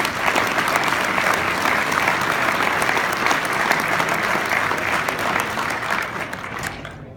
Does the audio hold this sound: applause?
yes